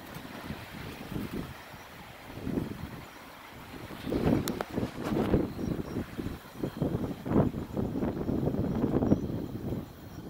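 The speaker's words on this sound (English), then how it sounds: "we got some pretty good wind gusts" Gusty wind from Tropical Storm Florence in rural South Carolina buffets the microphone in uneven roaring surges, building louder in the second half, with no talk.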